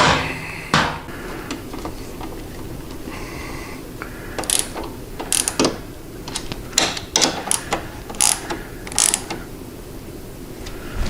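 A hand ratchet tightens the fasteners on mid-frame air deflectors for a low rider motorcycle, its clicking pawl coming in close, irregular bursts of rapid ticks over a faint background hum.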